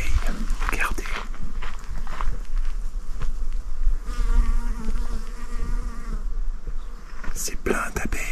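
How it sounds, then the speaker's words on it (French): Bees and other insects buzz steadily around a hiking trail on Mont Caroux in Hérault, southern France, a dense close hum under footsteps and faint whispering. "Écoutez ce bourdonnement d'insectes."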